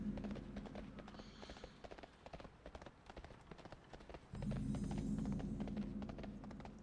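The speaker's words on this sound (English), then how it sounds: "Dude, this horse looks so cool now." Horse hooves clip-clopping in a video game expansion with new sound effects, a steady rhythmic trot of crisp taps over a faint hum, briefly thinning before a louder background tone returns.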